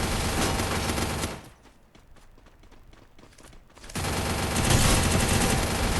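Sniper and other gunfire in a Solo vs Squad online shooter game, loud dense bursts of shots at the start and end with a quieter stretch of scattered sporadic pops in between.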